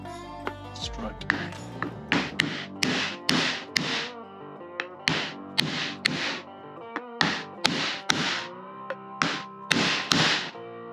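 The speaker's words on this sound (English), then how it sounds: "just use hammer." A hammer knocks parts into place while building a ute tub trailer, sounding as a long run of sharp, ringing metallic taps in uneven bursts, close and loud.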